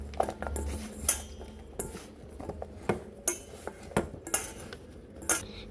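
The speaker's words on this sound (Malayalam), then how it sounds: "നല്ലതായിട്ട് ഇളക്കി കൊടുക്കാം." A spoon scrapes and clinks against a bowl while gram-flour batter is stirred, in a run of irregular close knocks and taps with no talking.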